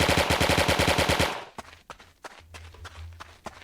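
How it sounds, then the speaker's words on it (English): Rapid automatic gunfire in a video game as a weapon is fired while running, a fast loud burst of about a dozen shots that stops abruptly, followed by quieter scattered footsteps and clicks. "now I can fire it as I'm running"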